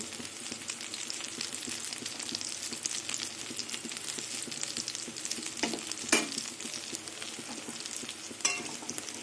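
Pui leaf and matar dal fritters sizzle steadily in hot oil on a gas stove, a dense continuous crackle with occasional louder pops, close by and with no voices.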